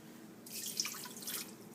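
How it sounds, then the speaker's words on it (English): A cup of water is poured into a pot in a short, soft splashing burst lasting about a second, close but faint against a quiet kitchen background. "To this, I'm going to add 1 cup of water."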